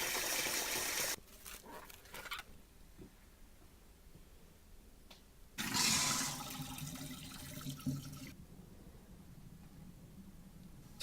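Water runs and splashes into a big bowl as 1,600 grams of sweet rice are washed by hand, coming in two louder bursts separated by quieter handling sounds, nearby and with no talk.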